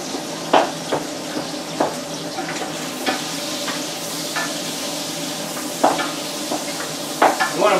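Meat searing in a pot for jambalaya gives a steady low sizzle, broken by repeated scraping stirs and light clinks of utensil against metal, with no talking.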